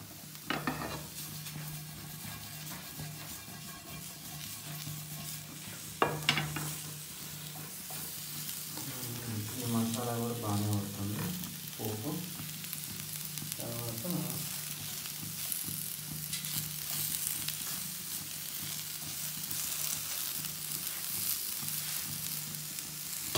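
Capsicum and a spice tempering fry and are stirred in a pan for a capsicum pickle, a steady close sizzle throughout with brief scraping bursts of the spoon and a few clinks of metal partway through.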